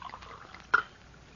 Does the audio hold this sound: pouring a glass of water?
yes